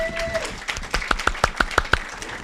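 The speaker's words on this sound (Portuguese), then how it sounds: "uma salva de palmas para a Alexandra" Scattered hand claps from an audience at a medical-spiritist talk, starting sparse and settling into a run of distinct, fairly close individual claps roughly evenly spaced, with faint murmur underneath.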